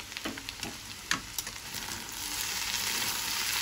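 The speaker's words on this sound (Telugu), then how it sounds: "చూడు, బెండకాయ ఫ్రై రెడీ అవుతుంది." Okra fry for an Andhra-style veg thali sizzles in a hot pan, with a steady crackle of frying and several sharp stirring clicks and scrapes early on, heard close and with no talk.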